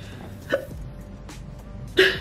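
Two sharp hiccups from a person during a clothing try-on, spaced about a second and a half apart, close and fairly loud against a quiet indoor room.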